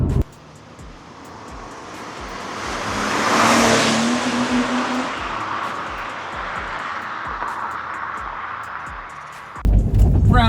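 A Porsche engine under way: a steady car drone rises to a louder surge and then settles, with road and wind noise and a brief change near the end.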